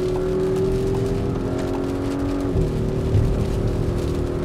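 A 2018 Audi SQ5 with all-wheel drive accelerates in heavy rain to pass a truck, its engine drone rising then dropping in pitch, with steady road and tire hiss throughout, loud and continuous inside the cabin.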